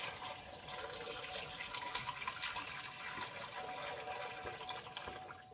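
Homemade chicken broth pours steadily into a bowl, a faint continuous liquid splash and trickle without pauses, with no talk.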